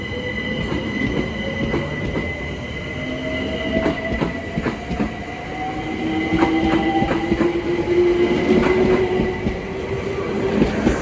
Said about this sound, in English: Now departing is the 1345 London Overground service from Crystal Palace to Hybern and Islington.